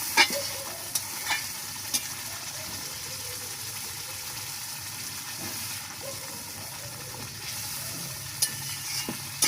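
Koi fish fries and simmers in oil with a little water in a pan, making a continuous close hiss and bubble, with a few sharp clicks and stirring sounds.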